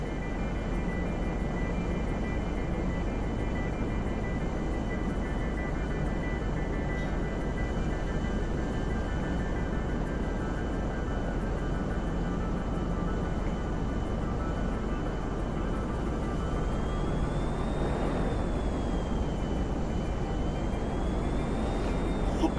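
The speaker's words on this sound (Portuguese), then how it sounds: "esse aqui é o Jato Hydra, que saiu na DLC das Raichs" A Hydra jet in the GTA V video game drones steadily throughout, with a continuous engine roar and a rising whine near the end as it glides, and no talking over it.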